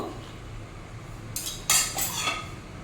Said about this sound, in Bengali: এখন একবার নাড়িয়ে দেব